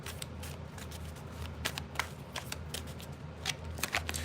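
Tarot cards being shuffled by hand, a steady close riffling and flicking with repeated crisp slaps over a low room hum, no talking.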